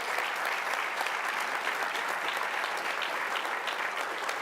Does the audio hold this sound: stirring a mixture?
no